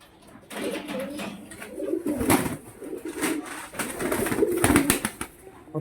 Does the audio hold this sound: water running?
no